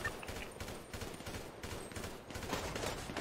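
Video game gunfire during a GTA roleplay shootout after a jewelry store robbery on Mount Chiliad, rapid overlapping bursts and volleys heard at a distance, fairly faint and continuous throughout.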